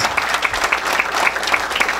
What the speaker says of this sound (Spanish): Fuertes aplausos para el ingeniero Fernández.